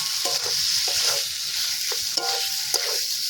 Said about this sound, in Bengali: এই যে ডুমুরটা হালকা থেতো করে বেটে করে নিয়েছি, এটা দিয়ে এবার ডুমুরটাকে ভাজা ভাজা করব